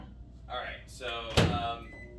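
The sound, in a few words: microwave oven door and operation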